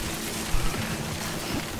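Steady rain falls in the video game Death Stranding, a dense even hiss with a brief soft thump partway through, continuous and fairly loud with no talk.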